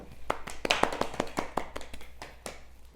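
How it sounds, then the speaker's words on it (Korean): A small group at a Bible doctrine school camp gives a short round of applause, loose, uneven claps close by that thin out toward the end. "수고하셨어요. 박수."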